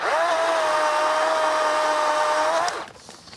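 A Kamikaze KVS7000P cordless telescopic saw cuts a tree branch, its motor holding a steady, loud whining tone for almost three seconds before winding down abruptly.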